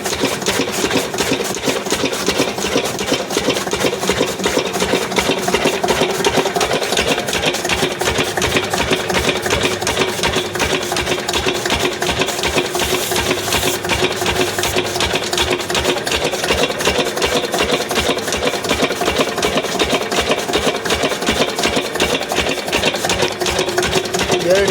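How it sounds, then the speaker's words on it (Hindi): A diesel Lister engine drives a fodder chaff cutter, a steady, fast rhythmic chugging and chopping that runs continuously at close range with an even loudness and no speech. "ये डीजल लिस्टर इंजन है, इसकी आवाज़ बहुत ही कम आवाज़ आती है, साइलेंट आवाज़ आती है।"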